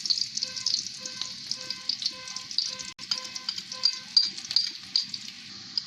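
Two spoonfuls of red chili powder hit hot oil in a pan on medium heat, setting off a loud continuous sizzle that holds steady with small crackles throughout, close by and with no talk.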